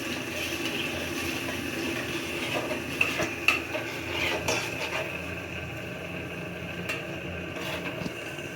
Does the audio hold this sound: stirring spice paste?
yes